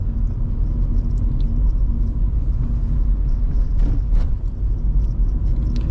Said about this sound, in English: We continue our drive in 3rd gear, changing into 4th